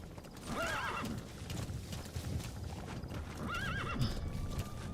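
D-Horse, the horse companion in Metal Gear Solid V: The Phantom Pain, gives two high, wavering whinnies about three seconds apart over a steady clip-clop of galloping hooves and low rumbling ambience.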